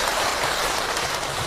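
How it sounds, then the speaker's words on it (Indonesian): An audience at a parenting talk applauds a mother who asked a question, a dense and continuous patter of many hands clapping close by. "Tepuk tangan buat Bunda yang sudah bertanya."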